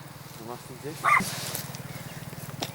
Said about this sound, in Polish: Tam się pies drze.